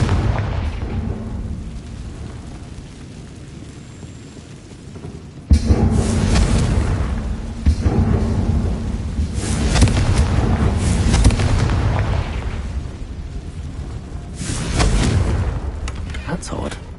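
A Confringo blasting spell explodes in Hogwarts Legacy: a sudden loud burst lands partway through, followed by rolling, booming detonations that swell and fade over a steady low rumble.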